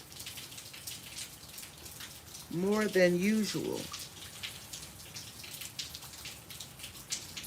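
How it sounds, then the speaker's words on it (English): Rain falls steadily in a garden, a soft continuous patter of drops with faint dripping, while a voice speaks briefly over it partway through. "it's raining, raining"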